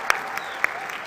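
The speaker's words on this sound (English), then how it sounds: "Can we have a huge round of applause, guys?" A short burst of crowd applause at the opening ceremony of the IBA Women's World Boxing Championships in New Delhi, scattered claps ringing out in a large space, fairly faint and brief.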